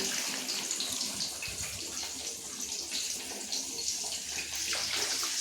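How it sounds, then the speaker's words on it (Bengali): Water is poured into chicken curry cooking in a pot, giving a steady, close rushing splash with no pause for about five seconds. "এবার আমি জল দিয়ে দেবো, পরিমাণ মতো জল দিয়ে দিচ্ছি।"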